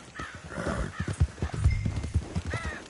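Horse hooves clip-clopping at a gallop in Red Dead Redemption 2, with a whinny on top, loud and close, rhythmic thuds running the whole way through.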